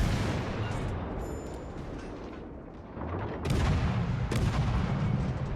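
Warship gunfire in the naval game World of Warships Legends, a low continuous rumble of booming shots that grows louder and denser near the end, with no talking.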